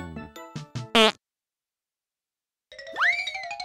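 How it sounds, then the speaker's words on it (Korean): Cartoon fart sound effect from a children's animated shark show: a short burst of comic tones and a loud blast near the start, then silence, followed by bright rising boing-like effect tones. "방귀를 끼고 도망가다니"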